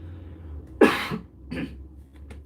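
One sharp cough up close, followed by a couple of smaller throat-clearing coughs in a quiet room.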